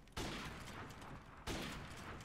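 Two bursts of gunfire in Modern Warfare Remastered during a 1v1 match, sharp loud onsets each followed by a sustained rattling spray, alone without talk.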